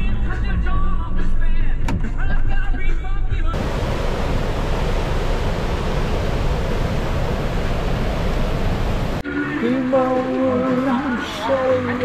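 Steady broadband road and wind rush fills the cabin as a car drives along an island road near Hilo, Hawaii, with quieter stretches of voices and background sound before and after the loud driving section.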